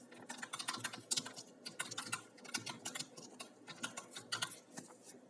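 Fast, continuous typing on a computer keyboard while writing Python code; dense, faint clicking keystrokes with no talk.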